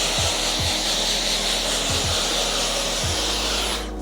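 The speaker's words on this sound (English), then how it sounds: "we use the diffuser as opposed to if we didn't have this on there is because it allows the hair to dry in place" A hair dryer fitted with a diffuser attachment blows on curly hair during a taper haircut, a loud, steady, close whooshing roar with a few low thumps, cutting off just before the end.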